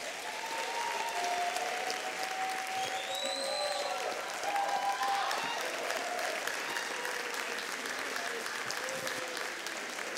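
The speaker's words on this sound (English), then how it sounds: "how many of you would like to give an appreciative round of applause for our" Sustained applause from a large conference audience for a panel discussion, steady and dense for the whole stretch with a faint crowd murmur mixed in.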